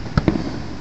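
Fourth of July fireworks over Baltimore give two quick distant thuds a tenth of a second apart, then a rumbling tail fading into steady outdoor noise.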